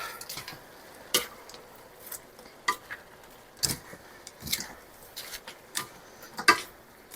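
A spoon stirs cabbage roll filling in a pan, giving irregular scraping clicks and clinks over a quiet, faint sizzle.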